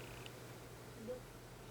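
A cat purring softly at close range during an indoor manicure session, a low steady rumble lasting about two seconds with no speech over it.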